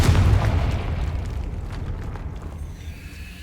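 A Confringo spell blast in Hogwarts Legacy, a loud booming explosion at the start that rumbles and fades out over a few seconds.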